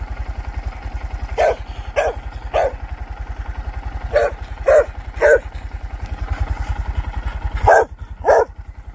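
A dog barks in short bursts of two or three, loud and close, over a steady low motor drone running throughout.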